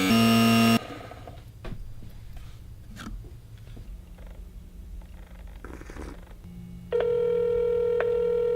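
A telephone rings for an incoming call, a steady electronic tone at the start, then a quiet stretch of faint room noise with soft clicks, before the ringing tone returns loud and sustained at the end.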